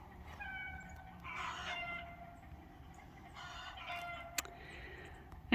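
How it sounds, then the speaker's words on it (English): Chickens in a winter kitchen garden call from some distance, with a few faint, drawn-out clucks and crowing cries rising over a quiet outdoor background. "You hear the chickens down there?"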